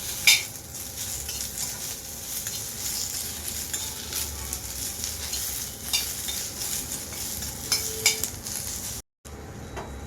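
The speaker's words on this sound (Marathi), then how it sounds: "एक मोठा कांदा आपण कापून घेतला आहे आणि तो लालसर होईपर्यंत परतून घ्यायचा आहे" Sliced onion frying in oil with bay leaves and red chillies, cooked until reddish for a spicy Kolhapuri misal: a steady close sizzle with occasional scraping stirs of a spoon against the pan, and a brief dropout near the end.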